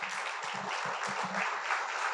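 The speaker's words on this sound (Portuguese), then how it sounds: "Um forte aplauso para a Jeanette" An audience at the Curaçao Innovation Award ceremony applauds, a dense, steady wash of clapping from many hands with faint voices murmuring underneath.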